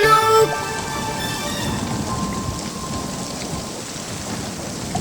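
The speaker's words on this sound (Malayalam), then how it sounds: "പെട്ടെന്നു മാനം കറുത്തു വന്നു, മഴയുടെ കൂട്ടത്തിൽ കാറ്റും വന്നു." Steady cartoon rainstorm with wind, a dense continuous hiss of falling rain at even loudness, with a brief musical tone at the start.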